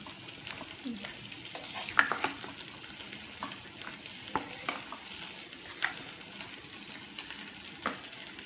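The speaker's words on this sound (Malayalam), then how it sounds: "ഇനി നമുക്ക് ഒന്ന് ഒരു കുറച്ച് നേരം ഇതൊന്നും ഇങ്ങനെ ഇളക്കി കൊടുക്കാം" Chicken chukka frying in a pan with a little oil, stirred with a spoon that scrapes and taps now and then over a steady faint sizzle, no talking.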